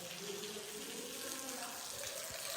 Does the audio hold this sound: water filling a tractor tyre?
yes